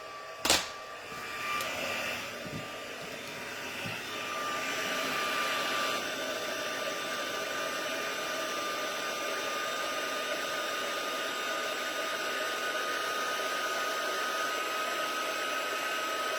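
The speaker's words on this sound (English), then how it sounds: "so then we'll get my heat tool." A papercraft heat tool blows hot air with a steady, close whirring hiss and a high whine, after a sharp click at the start, continuing unbroken to the end.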